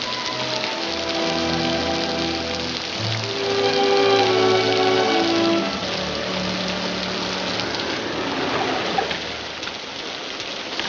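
Steady rain falls continuously and evenly throughout, a dense close hiss with tonal background sound underneath and no voices.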